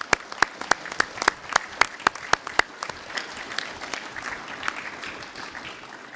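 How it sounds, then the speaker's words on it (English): Council members at a full council meeting break into a round of applause, loud sharp claps in a quick burst at first, then settling into a softer, steady spread of clapping across the room. "I'd like to ask for a spontaneous round of applause for all the staff"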